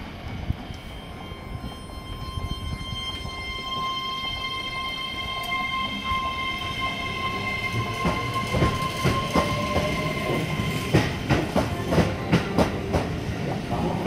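A Keihan 13000 series commuter semi-express train departs Kōrien station, a steady motor whine rising in pitch as wheels pick up a quickening clickety-clack over rail joints, loud and close.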